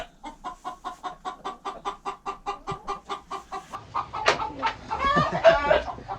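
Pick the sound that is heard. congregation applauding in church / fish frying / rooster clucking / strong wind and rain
rooster clucking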